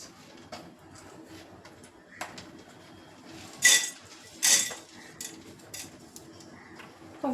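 Pumpkin seeds tipped into a pan while roasting dry fruits for sugar-free laddoos: quiet rattling and tapping of seeds and utensil against the pan, with a few sharper clinks, under faint background voice.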